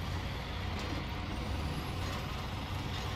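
A heavy truck in SnowRunner, in the Amur Region mountains, runs with a steady, loud low engine rumble and broadband noise. A faint rising whine sits over the rumble, and no one talks.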